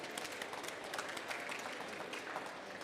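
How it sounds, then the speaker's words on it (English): Conference audience at a COP27 financing panel breaking into steady applause, a dense, even wash of many hands clapping that holds throughout at a moderate distance. "Another round of applause, please."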